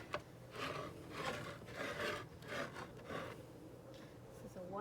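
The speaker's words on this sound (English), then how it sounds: "I'm just going to wipe the rings down really good." Soft, rhythmic rubbing of a microfiber cloth wiping down metal canning jar rings, repeated strokes at close range, quiet and steady.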